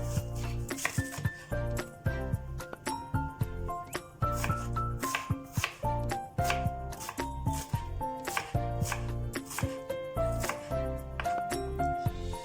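Rapid, rhythmic knife strikes chopping onions on a board, a quick run of sharp taps close by with a busy kitchen backdrop.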